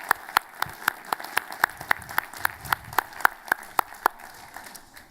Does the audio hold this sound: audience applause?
yes